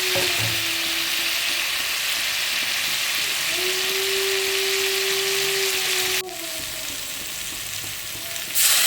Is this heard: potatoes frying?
yes